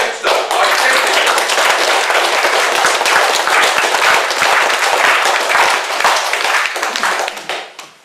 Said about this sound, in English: that's how you get a round of applause in this meeting